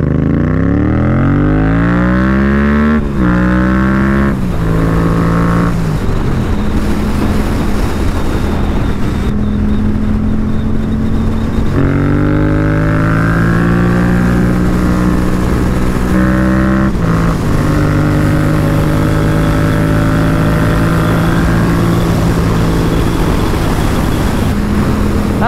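A Yamaha MT07 motorcycle with a front end that shakes at low speed rides along a road, the engine loud and close, revving and shifting through gears with rising and falling pitch.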